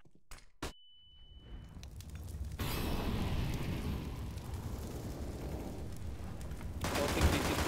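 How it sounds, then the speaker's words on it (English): A flashbang grenade thrown during a first-person shooter match on the de_mills map: a couple of sharp close clicks, a short pause, then a loud, sustained wash of blast noise that swells again near the end. "Deploying flashbang."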